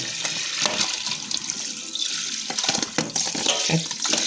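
Tap water runs and splashes as raw sardines are washed in a sink for pickle, a steady close hiss with small clattering and sloshing sounds of handling.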